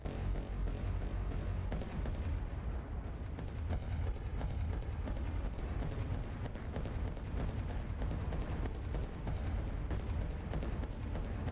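Massed artillery in Rise of Nations during a Napoleonic-era battle, a steady rumbling wall of overlapping booms and cracks that never lets up, dense and loud throughout.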